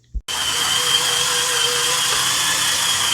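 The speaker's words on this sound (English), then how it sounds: "I'm going to continue scrubbing back just a little more" A Turbo Scrub Pro power scrubber snaps on after a brief knock and scrubs with a steady, close buzzing whir for about three seconds.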